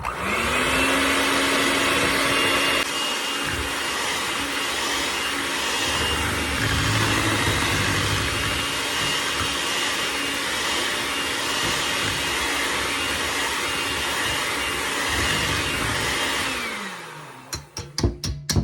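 Electric hand mixer beating buttermilk pie filling with butter chunks, a loud steady motor whir running continuously for about seventeen seconds before winding down and stopping with a few clicks.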